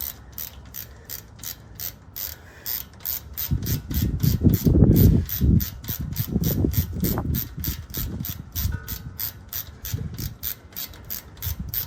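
A ratchet wrench loosens the lower ball joint nut on a 2004 Dodge Ram, with rapid, even clicks running throughout and heavier metallic working noise in the middle.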